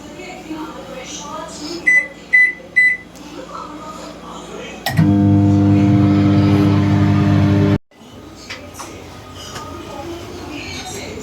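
A microwave oven heating a pizza hums steadily for about three seconds, then stops abruptly, preceded by a few short beeps; faint voices and room noise surround it.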